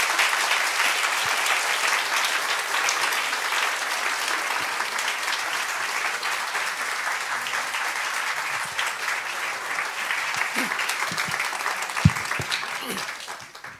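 A church congregation bursts into loud, sustained applause to welcome a pastor at a special Holy Week service, with a dense wall of clapping that continues steadily for many seconds before trailing off at the end.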